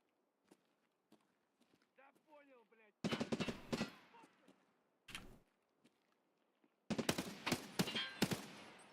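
Gunfire in Escape from Tarkov, a PvE match: loud, close bursts of rapid automatic shots in two long volleys with a single shot between, preceded by quiet footsteps and faint speech.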